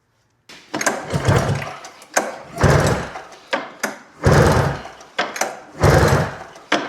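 A snowmobile engine that sat outside for ten years is cranked for a compression check, four bursts of rhythmic churning pull-start turning, each rising and cutting off, close and loud with short pauses between.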